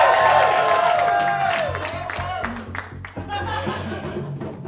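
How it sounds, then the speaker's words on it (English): A theater audience at a live finale show cheers and applauds, a dense loud crowd roar that gradually thins, with a tonal whistle-like sound early on and scattered whoops later. "You're allowed to cheer him on."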